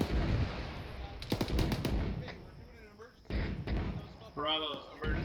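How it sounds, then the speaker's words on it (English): Mortar fire during a military field exercise: a quick cluster of sharp, distant bangs followed by scattered thuds, heard between stretches of soldiers' voices and radio chatter. "Sounds like that's where the mortars are coming from."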